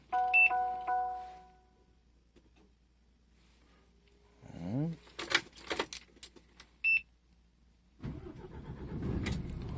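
Electronic beeps chime, keys rattle, then a DAF XD 450hp truck's starter cranks and the big diesel engine catches and settles into a low, rumbling idle.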